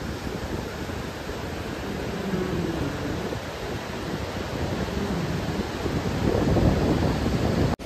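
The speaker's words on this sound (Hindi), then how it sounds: "और ये रहा वो झरना" Waterfall roaring beside a swaying suspension bridge on the way to Kalpeshwar Mahadev Temple, a steady broadband rush of falling water, loud and continuous, swelling slightly toward the end, with wind buffeting the microphone.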